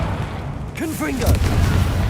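Confringo fire spell blasts in the game Hogwarts Legacy, a whooshing cast followed by a heavy boom amid combat noise, with a voice shouting.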